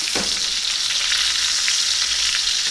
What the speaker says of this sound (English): Basting this steak.